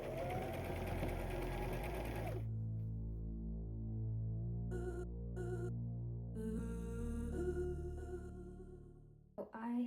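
A sewing machine stitches lace onto dress panels with a steady humming, throbbing motor drone that runs almost continuously at close range, shifting pitch a few times before stopping with a brief clunk at the end.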